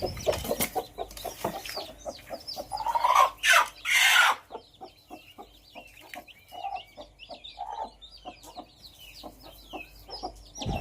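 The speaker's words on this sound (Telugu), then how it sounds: "కోడి పిల్లలను పట్టు దించుకోవడం జరుగుతుంది." A black hen clucks among her chicks as they cheep rapidly and repeatedly, close by, with a louder flurry of clucks partway through and no talking.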